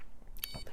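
A buzzer on a homemade launchpad and motor test stand computer gives a single short, high electronic beep, quiet and close, with faint handling noise around it.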